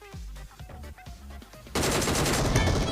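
Gunfire in PUBG Mobile, a burst of rapid single shots in the first half followed by a dense, loud, continuous volley of overlapping fire, with no talk over it.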